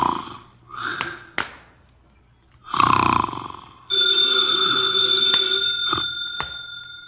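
A heavyset 300-pound man snores through his nose in two rough, breathy snorts, followed by a telephone ringing steadily in an old-time radio drama scene.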